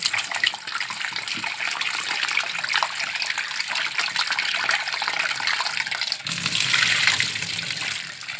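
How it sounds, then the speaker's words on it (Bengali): Cut pieces of small lata fish from a paddy field are washed in water, a steady close sloshing and splashing that continues throughout and swells near the end. "এটাকে আবার ভালো করে ফ্রেশ করে ধুয়ে নেবো"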